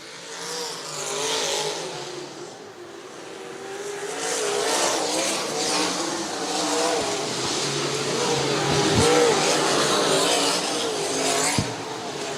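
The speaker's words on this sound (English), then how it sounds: "Chris Parkinson trying to work on that 41 car" Dirt track race cars at Bethany Speedway roar continuously around the oval in a feature race, engines droning and revving at a steady loud level with a couple of sharp clicks near the end.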